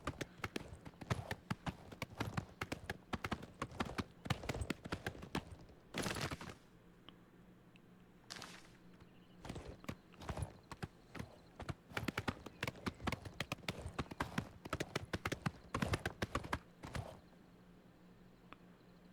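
Horse hoofbeats in the video game Oblivion: rapid clip-clop bursts of galloping hooves come in long runs, broken by short pauses and sharp isolated hits, near and fairly loud, with a low ambient hum beneath.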